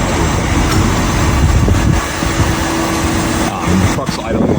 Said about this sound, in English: The truck's idling like this.